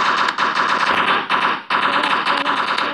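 An A12 gun fires in the video game Block Strike as rapid, continuous automatic bursts, loud and close, broken by a couple of very short pauses, with no speech.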